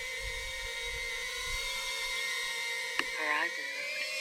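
Diatone Tina Whoop micro drone flying outdoors, its motors giving a steady high-pitched whine that shifts pitch near the end, moderately distant, with a brief click and faint wind.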